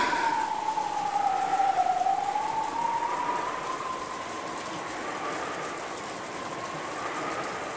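Wind and rain from a visual novel form a steady, dense wash of hiss. A thin whistling howl rises and falls through it, loudest at first and then settling into a constant level.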